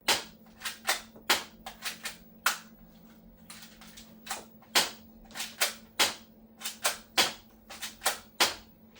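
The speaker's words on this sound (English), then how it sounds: "Toy gun. Classic toy gun bit. This is a toy gun." Toy cap gun firing in the video game Seinfeld 64, a rapid, irregular series of sharp snapping shots, some in quick bursts, over a faint steady hum.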